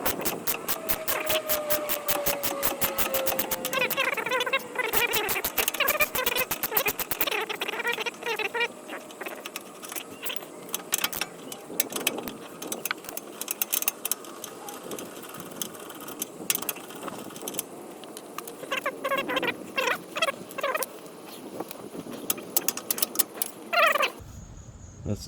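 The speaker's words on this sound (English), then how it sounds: "go ahead and get your ratchet, the 19 on it, and just take those out." A ratchet spins off a 19 mm bolt and nut on the front suspension link of a 2021 Honda Odyssey Touring, with long bursts of rapid close clicking that come in repeated runs separated by brief pauses.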